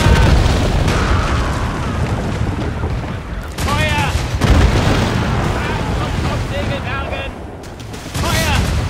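Ship cannons in the Assassin's Creed Rogue video game fire in a loud, rolling volley of booms and blasts that continue across the stretch, with short gaps between bursts and voices mixed in among the gunfire.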